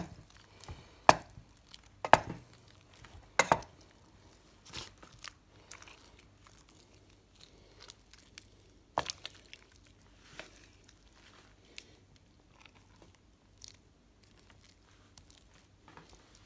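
Washed cream being kneaded and squeezed by hand into butter, giving scattered wet squelches and soft crunchy presses, a few sharper bursts early and quieter squishing afterward, close up with no talking.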